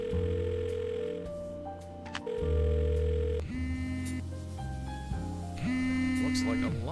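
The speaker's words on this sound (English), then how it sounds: "Use the cell phone." Cell phone dialing in the adventure game Blackwell Deception: a sequence of electronic keypad tones and a ringing tone, clean and synthetic over quiet game music.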